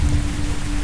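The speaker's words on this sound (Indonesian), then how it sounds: "Hujan ya, di luar hujan ya." Rain falls outside in the horror game Pulang Insanity, a brief, steady hiss of drops with a low rumble beneath it.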